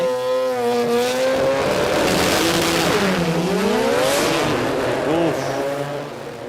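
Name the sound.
race car engine struggling through the gears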